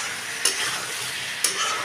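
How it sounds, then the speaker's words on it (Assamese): Spices for a cauliflower and fish curry sizzle steadily in a hot pan, with two sharp scrapes of a spoon stirring them, close and fairly loud. "এতিয়া ধুনীয়াকৈ এইখিনি লৰাই দিম"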